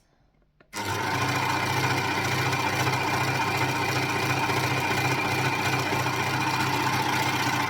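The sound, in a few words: overlocker sewing and chopping off excess fabric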